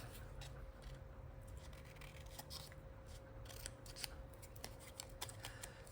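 Scissors snipping through paper while shaping shabby-style paper flowers, a run of quick close crisp cuts and rubs repeating over a steady low background hum.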